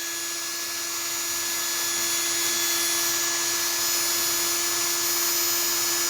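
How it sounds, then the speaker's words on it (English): A steady high-pitched whine of a small power drill with a 1/16-inch bit boring into a gas shock cylinder, running continuously, with a faint constant hum underneath. "I'm going to drill about an inch up here."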